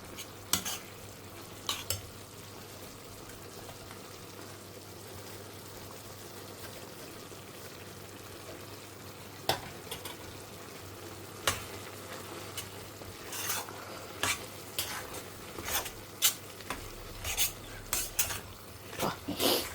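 Soft bubbling simmer of curry in a pot with occasional scraping clinks of a spoon stirring, sparse and fairly quiet, no voices.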